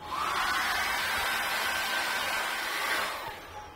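A hair dryer blows steadily across a wet landscape painting of a mountain and lakeside cabin in a studio, a loud continuous whooshing whine that holds for about three seconds before tapering off.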